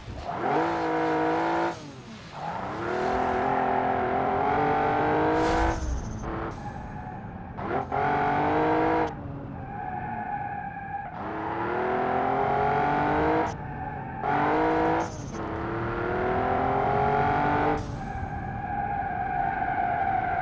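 In the BeamNG driving game, a car's engine whines through repeated rising and falling revs with harmonic tones, broken by abrupt cuts and skidding screeches as it brakes hard, loud and close with no voices.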